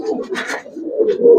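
Big-sized Giribaz pigeons coo at a loft, a steady low murmuring call running through the clip with brief higher rustles or flutters, fairly close and continuous.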